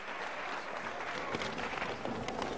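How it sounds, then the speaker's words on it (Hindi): An audience welcoming Dr. D.C. Jain at a World Vegetarian Awareness Day event in Delhi breaks into steady applause, a dense, even wash of clapping heard from a distance and fairly quiet. "आप सबकी जोरदार तालियां उनके वेलकम के लिए मुझे चाहिए"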